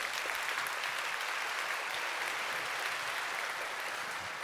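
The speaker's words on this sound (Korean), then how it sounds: "다시 한번 인사하실 때 큰 박수를 해주시기 바랍니다." Church congregation at a Sunday service gives a big round of applause after a baptism, steady dense clapping filling the hall throughout at moderate distance.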